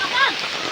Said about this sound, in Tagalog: Ano, ulan na nga guys.